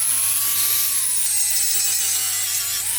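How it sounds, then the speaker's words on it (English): An angle grinder with a sandpaper disc cleans up rusty metal around a hole on a Vauxhall Calibra. It gives a continuous, loud, high-pitched whine whose pitch sags slightly as it works. "just using a grinder with a sandpaper disc on it, just getting around the edge of the hole and finding some decent metal"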